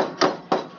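Two sharp metallic hammer blows while working on a car exhaust, with the start of a third at the end, close and loud with no talk.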